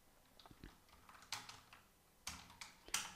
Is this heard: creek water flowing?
no